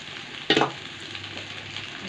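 Okra pieces with onion frying in hot oil, a short burst of sizzling as they are stirred, then a quieter crackle in a pan.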